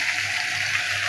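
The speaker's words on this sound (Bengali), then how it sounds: "আর এই যে মাছের মাথাটা দিয়ে দিচ্ছি," A katla fish head drops into a hot oiled pan and sizzles with a steady, close, broadband hiss that holds evenly for about a second, with no voices.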